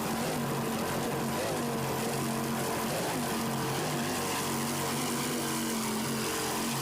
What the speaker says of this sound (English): Listen to those two 600 horsepower Bandit inboards.